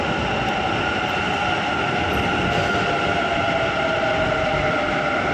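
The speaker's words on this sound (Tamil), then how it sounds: "ட்ரெயின் வர்றதுக்கு ஒரு ட்ரெயின் வந்து இருக்குது." A metro train arrives at Mysore Road metro station in Bangalore, a loud continuous roar with steady tonal whine from the motors and rails, filling the whole stretch without pause.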